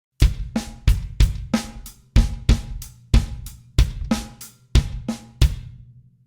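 A full paradiddle drum groove with a bass drum on the and after four, each stroke a sharp broadband hit with kick thumps beneath, about eleven strikes in a steady rhythm, close and loud, with no talking.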